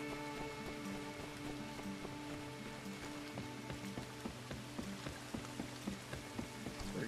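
Steady rain in the video game My Time at Sandrock patters on a surface with a dense hiss of drops, accompanied by a faint tonal background hum, continuous throughout.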